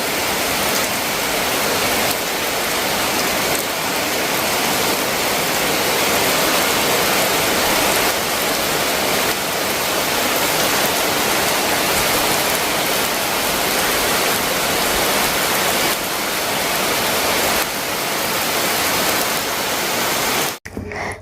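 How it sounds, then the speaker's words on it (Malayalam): Heavy rain pours down in a dense, constant roar of hiss and patter that holds loud and unbroken until it cuts off abruptly at the very end. "നമുക്കങ്ങനെ നല്ലൊരു മഴ കിട്ടി."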